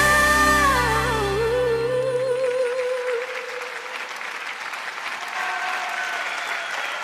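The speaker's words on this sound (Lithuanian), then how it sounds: "Ponai ir ponios, jūsų aplodismentai." Applause from an arena audience follows an ice dance performance, rising as the closing music fades out and then settling into steady sustained clapping from a large crowd, heard from a distance.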